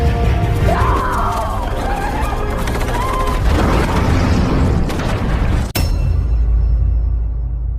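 Dropped bomb exploding in the sci-fi war film The Tomorrow War, a loud rumbling, roaring blast over a dense chaotic soundtrack with distant screams, ending in a sharp crack and sudden cutoff to quiet.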